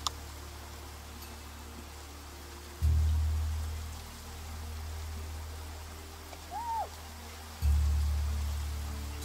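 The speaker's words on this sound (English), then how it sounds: "Oh, lovely, it's raining." Rainfall in the creature-breeding video game Niche, a soft, steady hiss that runs throughout, with low swelling rumbles and a brief faint hoot-like call partway through.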